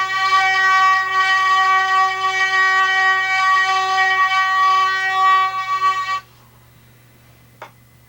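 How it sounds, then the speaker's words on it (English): Hurdy-gurdy melody strings sounded by a cranked wheel, a bright, buzzy sustained tone held for about six seconds before cutting off, followed by a single faint click. "These are the melody strings, and they sound like this."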